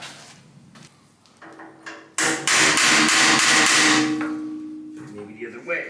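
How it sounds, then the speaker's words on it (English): A taper pin is hammered out of a shaft on a 1953 Delta Unisaw table saw under restoration: a rapid series of sharp, loud metallic blows close by, followed by ringing decay and a few quieter knocks. "There's a pin in there, taper pin, that we gotta"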